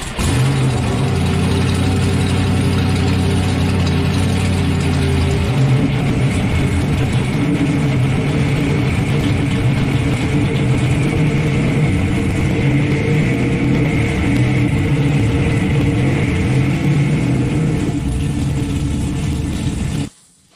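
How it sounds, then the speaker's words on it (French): A Texas Speed 1500 hp LS V8 fitted into a Lamborghini Huracan runs during its first break-in cycle, a loud, close, continuous rumble with idle and revving that ends abruptly when the engine shuts off. "D'accord, c'est l'heure de roder le moteur."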